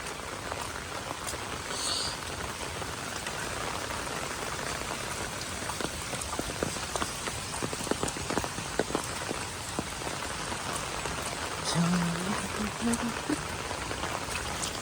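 Heavy rain falls hard in a tribal village, a steady close hiss of drops with scattered sharper splashes, while a voice speaks faintly now and then beneath the downpour.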